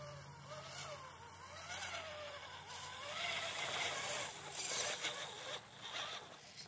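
Small electric motor whine of a K10 Ascender RC car driving on throttle through snow, rising and falling in pitch as it pulses, faint and close, over a steady background hiss.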